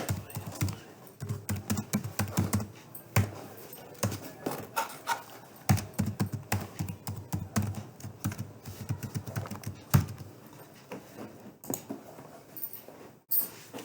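Rapid computer keyboard typing while login credentials are entered for a remote desktop connection to a cloud-hosted Azure virtual machine: irregular bursts of close, crisp keystrokes with short pauses, and no voices.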